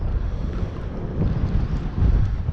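Wind buffets a small fishing boat out squid fishing, a steady low roar of gusts battering the microphone, rising and falling in strength with no voices.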